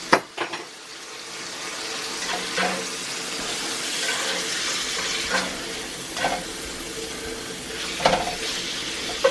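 Meat frying in olive oil with a little sesame oil in a cast iron pan: a soft continuous sizzle with occasional louder spits and clatters, close and alone.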